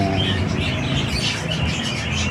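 A flock of breeder parakeets chirping in an aviary: dense, continuous overlapping tweets and chatter, close and lively, over a steady background hum, with no one speaking.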